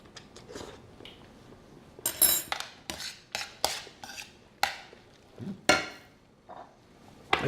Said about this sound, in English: Give it a stir. Get those noodles in there.